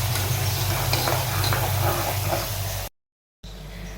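Onions frying in a pan with ginger-chili paste and crushed garlic for a jackfruit curry give a steady, loud sizzle with stirring scrapes, cut by a brief silence before the hiss resumes more quietly.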